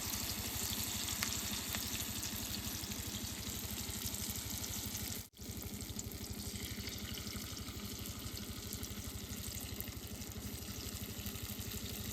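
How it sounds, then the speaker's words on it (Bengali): Banana peel chops fry in hot oil with a steady, dense sizzle and crackle that runs without a break, except for one brief dip partway through. "তেলটা গরম হয়েছে, এখন চপটা ভাইজা নেব"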